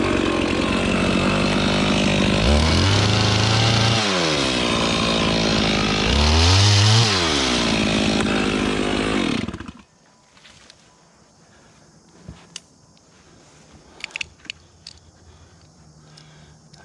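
A Stihl MS 500i wrap-handle chainsaw cuts into a huge white oak with a loud, close, sustained roar. The engine pitch dips and recovers twice under load, then cuts off abruptly, leaving quiet clicks and knocks.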